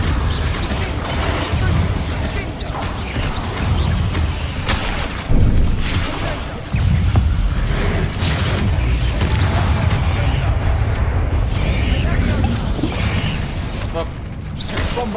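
Incendio fire spell cast repeatedly in Hogwarts Legacy: loud, steady rumbling bursts and booming impacts fill the whole stretch, with a brief dip just before a heavy blast near the middle.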